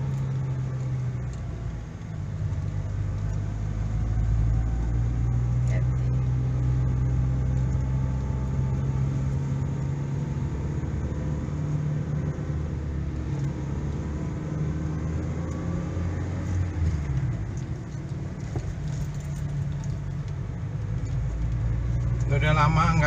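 A manual car's engine drones steadily in second gear while driving along a road, a continuous low rumble with road noise, and people talk inside the car over it.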